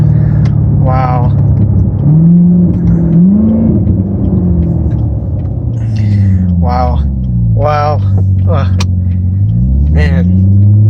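A 2019 Corvette ZR1 engine rumbles loudly from inside the cabin as it accelerates, its deep drone rising and falling through repeated revs, with people talking over it throughout.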